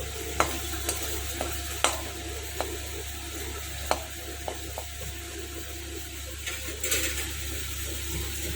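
Chopped garlic fries in a pan for paneer fried rice: a steady hissing sizzle with a low hum underneath, punctuated by irregular sharp spatula taps and scrapes.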